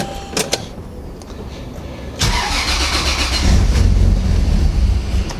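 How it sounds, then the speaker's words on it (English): A car engine cold-starts on a freezing winter day: a few clicks, then the starter cranks and the motor catches into a loud, rough, rising idle close by. "It's never good at cold starting."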